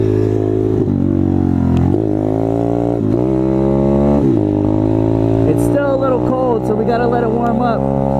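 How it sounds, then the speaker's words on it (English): A motorcycle doing a burnout, its engine revving up and down in repeated loud surges with a held, wavering whine. A voice talks over it. "someone's doing a burnout right here"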